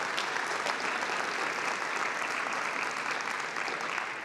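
An indoor assembly audience claps steadily and densely throughout, a sustained even round of applause with no voices standing out.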